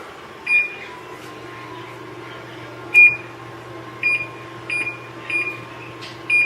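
An oven timer being set for a pizza gives a series of short, sharp electronic beeps, about seven spaced irregularly over a low appliance hum, close and clear with no talking.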